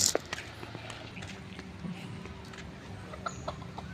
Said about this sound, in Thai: ไก่แจ้น่ารักมากทุกคน